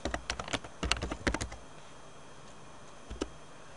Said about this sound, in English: I could type in here how to make image